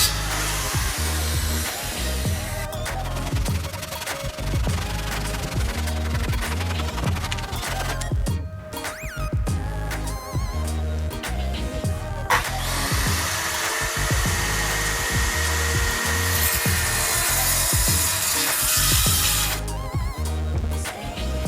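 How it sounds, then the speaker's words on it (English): A circular saw and a handsaw cut through a rustic wood shelf board, making a loud, steady, broadband whine that runs throughout, with a rhythmic low thumping underneath. "cut it off with a combination of the circular saw and a handsaw"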